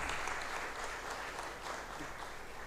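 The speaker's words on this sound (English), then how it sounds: "Let's give a better round of applause" An audience at the African Food Systems Forum, a parliamentary and policy makers' session, gives a steady round of applause, dense uniform clapping filling the hall without talk.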